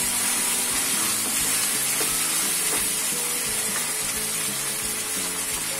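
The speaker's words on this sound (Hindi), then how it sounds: "अब इसमें मैं डालूंगी सोया सॉस, और ये वेनेगर, और सभी को अच्छे से इसमें हमें भूनना है।" Soya chunks fry with soy sauce and vinegar in a pan for soya chilli, giving a loud, steady sizzle with faint stirring clatter throughout and no voices.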